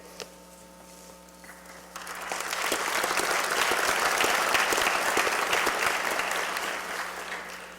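A university commencement audience breaks into applause, starting quiet over a low hum and swelling into loud, sustained clapping from a large crowd in a hall.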